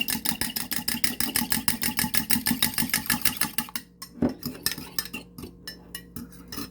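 Egg and a spoonful of cheese sauce stirred together in a bowl for Southern-style four-cheese macaroni: quick, rhythmic utensil strokes for several seconds, then slower, sparser clinks and scrapes, close and fairly loud.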